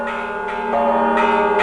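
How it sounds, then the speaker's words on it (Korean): Church bells toll at dawn in Bethlehem, several overlapping strikes blending into a clear, ringing wash of sustained tones that swell and layer over one another, fairly loud with no talking. "새벽, 청아한 종소리에 베들레헴은 밝은 기지개를 켠다."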